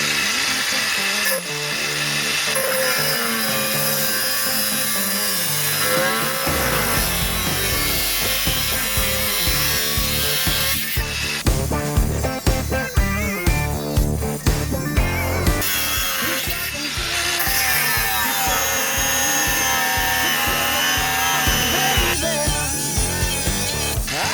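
A GROSSER GAG 20 cordless angle grinder cuts through metal and rebar with a loud, sustained high whine, rising and dropping in pitch as the disc bites, with rattling bursts in the middle.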